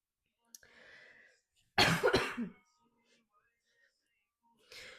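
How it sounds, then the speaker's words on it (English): A single sharp, loud cough bursts out between quiet breathy sounds, close by. "I still have that annoying little cough."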